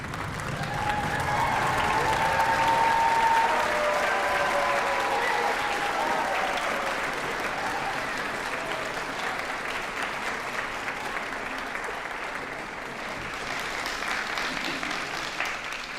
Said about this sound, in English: stand up if you can, cheer, applaud, scream, hoot and holler to thank everybody that's helped you on your journey.